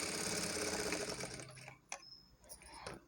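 Sewing machine stitching lining cloth to main fabric for a shape belt, a steady close mechanical whirr that slows and stops partway, followed by light handling clicks.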